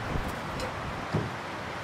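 Wind gusting in the video game The Long Dark, a low rushing blow with soft rustling and a couple of brief buffeting puffs over a short span.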